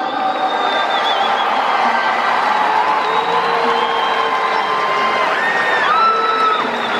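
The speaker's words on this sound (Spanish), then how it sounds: "Regalémosle un aplauso a la selección de Cuba." Arena crowd at a Cuba versus El Salvador basketball game applauding and cheering steadily for the Cuban team, a loud continuous wash of clapping with whistles and shouts rising above it.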